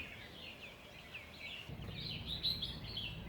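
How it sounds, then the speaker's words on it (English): Birds chirp faintly along a tree-lined avenue in Mauritius, thin high twittering calls repeating over quiet outdoor background hiss. "Lots of birds."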